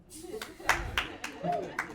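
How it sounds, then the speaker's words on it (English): A single audience member at a comedy show claps loudly, about five spaced sharp claps near the microphone, with a comedian's voice speaking over and between them. "He clapped loud."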